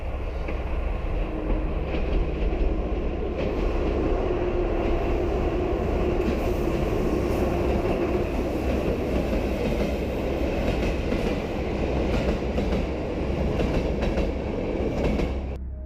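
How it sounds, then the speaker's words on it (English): A train rumbles loudly and steadily through an enclosed space, with a dense, echoing roar and faint clattering wheels that persist throughout. "The train passes by the tunnel"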